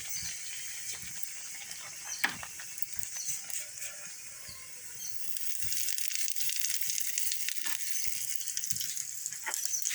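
Fenugreek and asafoetida tempering in hot oil for a brinjal, drumstick and mango pulusu, giving a steady airy sizzle that swells louder about halfway through, with a few soft clicks of utensils.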